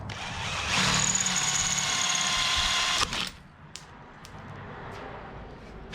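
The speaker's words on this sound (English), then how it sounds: "Well, that's one way to drill it out." A power drill whirs loudly and steadily for a couple of seconds while drilling out a part on a 1961 Bel Air wagon, then stops, followed by a few faint clicks and knocks.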